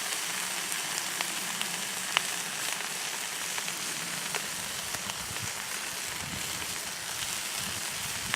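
Canadian bacon frying on a camp stove outdoors at a campsite, a steady soft sizzle with faint scattered pops and crackles running throughout, fairly quiet and with no voices.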